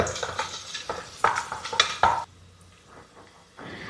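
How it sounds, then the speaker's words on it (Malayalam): Cashews frying in a pan for egg biryani, with stirring scrapes, clinks and a crackling sizzle that are loud at first, then drop suddenly to a faint, quiet fry. "ഇതിലേക്ക് അണ്ടി കൂടി ഇടാം"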